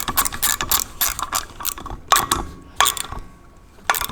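A ratchet snugs up the castle nut on a Lotus Elan front spindle, making quick runs of loud, close clicking that pause briefly between strokes.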